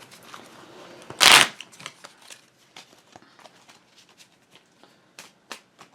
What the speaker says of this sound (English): Alright, so that's my shuffle